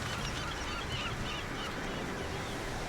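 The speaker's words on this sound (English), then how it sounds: "Wow, that's a lot of birds." A big flock of birds honks and calls in the video game Deus Ex: Mankind Divided, making a dense, continuous chorus of overlapping cries that sits at a moderate distance.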